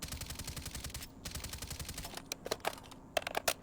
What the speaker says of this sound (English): It's a very quiet suppressed gun